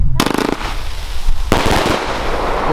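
Rapid bursts of firework shots from a Pyrogenie SR-25-09-F411 single-row battery, nine shots, a crackling volley followed by a second louder barrage, close and loud.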